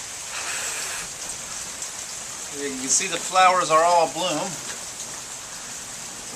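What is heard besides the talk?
rain falling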